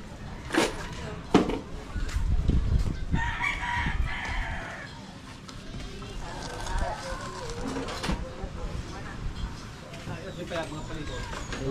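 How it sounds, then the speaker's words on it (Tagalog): A rooster crows amid clucking chickens, close by, while people talk over the birds. "Oh, manok naman ngayon, no?"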